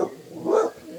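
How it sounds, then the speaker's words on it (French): A dog gives a single short bark near a horse stable while riding gear is being prepared. The bark is a close burst in the middle of a quiet moment. "C'est mon chien."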